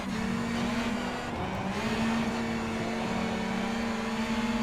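Rally cars cross the finish line of a gravel stage at WRC Safari Rally Kenya 2023, a steady engine drone with a strong low tone holding throughout, fairly loud and close with no voices.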